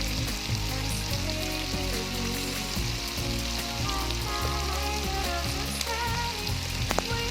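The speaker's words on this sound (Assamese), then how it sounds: "অলপ ভাজি লোৱাৰ পাছত মছলাখিনি দি দিছোঁ।" Duck meat fries with spices in a pan, giving a loud, continuous sizzle and crackle that holds steady throughout, with no voices over it.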